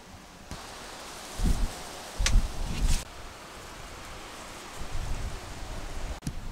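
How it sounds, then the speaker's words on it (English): Light rain falls steadily outdoors beside a wooded waterfowl marsh in Ontario, a soft continuous hiss with a few brief louder rustles and gusts, and no talking. "it's starting to rain a little bit more"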